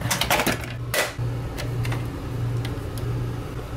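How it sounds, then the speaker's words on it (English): A Keurig coffee maker brews in a home kitchen, giving a steady low mechanical hum with scattered clicks and a couple of sharper knocks near the start, close by with no talking. "But let's put the coffee on the Keurig here,"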